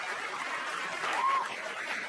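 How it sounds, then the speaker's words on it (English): A stand-up comedy audience applauds for comedian Mark Norman, moderate clapping with a little laughter mixed in, swelling briefly in the middle. "Mark Norman, please clap for him."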